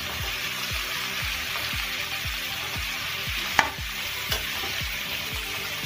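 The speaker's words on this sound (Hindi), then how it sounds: "इसे फ्राई कर लीजिए, जब तक ये फ्राई नहीं हो जाए इसको तलते रहिए" Black pepper and vegetables sizzle in a pan with a steady, close frying hiss, while a spoon scrapes and stirs in a regular rhythm of about two strokes per second, plus a couple of sharper clinks.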